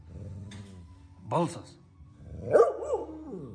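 A dog gives two or three short barks close by, separated by pauses, with a quiet low hum in the background.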